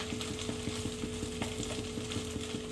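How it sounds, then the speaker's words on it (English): Rice and onions fry in a pan for pineapple fried rice, a close, steady sizzle with small crackling pops that repeats in a loose rhythm, with no talking over it. "And now I'm going to kind of let the rice and the onions cook a little bit"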